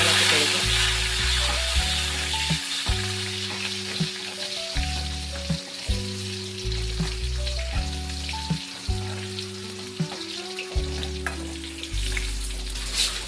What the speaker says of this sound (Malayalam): ഇനി അതിലേക്ക് 2 ചെറിയ ഉള്ളി വട്ടത്തിൽ അരിഞ്ഞെടുത്തത്, പിന്നെ കുറച്ച് വറ്റൽമുളക് ഇട്ട് കൊടുക്കുക. നന്നായിട്ട് ഇളക്കി കൊടുക്കുക.